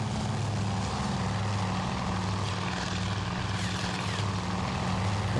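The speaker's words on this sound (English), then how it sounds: "Oh, nope, that was a torpedo bomber." Propeller engine of a torpedo bomber in the naval combat game Task Force Admiral, a steady loud droning hum with a low throbbing tone that holds unbroken throughout, no voices.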